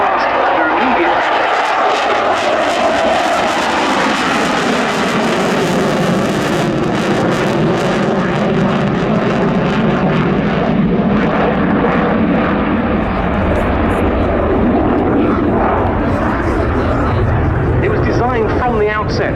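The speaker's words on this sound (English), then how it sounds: "It's the latest in a long line of Delta Wing Dassault combat jets." A Dassault delta-wing combat jet roars through an air show display, loud and continuous with a sweeping, shifting pitch as it passes, and a commentator's voice runs over the engine noise.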